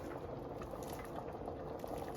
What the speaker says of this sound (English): Now we're going to bring this to a boil and simmer it for 10 minutes.